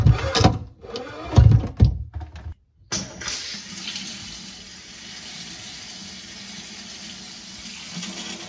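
Water streams steadily from a newly installed kitchen sink faucet, a continuous even hiss after a few brief clanks and knocks of handling at the start.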